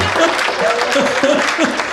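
A crowd applauds at a Haryanvi comedy poetry show, steady dense clapping throughout with a voice speaking over it.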